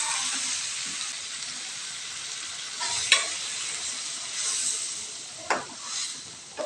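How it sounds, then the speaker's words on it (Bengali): Potatoes for a meat curry fry in a pan under a steady hissing sizzle, broken by occasional scraping stirs and a few sharper utensil clanks, with no one talking. "আলুটা দিয়ে একটু নাড়তে থাকবো।"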